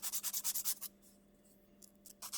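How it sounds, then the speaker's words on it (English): A file rubs back and forth on a Copper Penny Sparkle dip powder silk wrap nail, making quick rhythmic scratchy strokes close up, then a short pause and a few more strokes. "I can now shape my Copper Penny Sparkle silk wrap"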